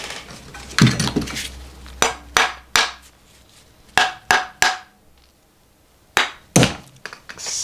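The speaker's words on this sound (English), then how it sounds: "I'm gonna have to tap this with something one time." A tool striking the oil pump of a BMW S50 engine from an E36 M3 to loosen it: about ten sharp metallic knocks in loose bursts, close and loud, with short quiet gaps between.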